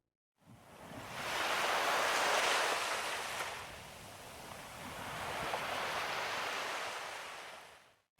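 Sea waves roll in along the shore in two broad surges, a soft rushing wash that swells, eases, then rises again before fading out, heard alone with no voices.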